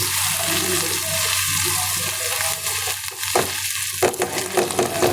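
Spoon stirring eggplant and shrimp paste in a sizzling frying pan, a steady fry hiss with scraping strokes and a few sharper knocks toward the end, no voices.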